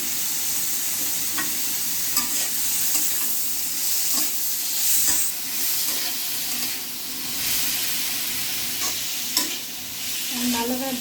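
Food fries in a pan in a home kitchen, sending up a continuous bright sizzle with soft stirring and scraping swells and a few light utensil knocks close by.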